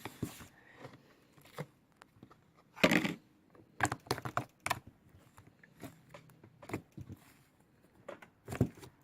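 Clicky, soft Green Peppermint fluffy slime is squished by hand, giving faint, scattered crackling clicks and little pops in irregular bursts against near silence.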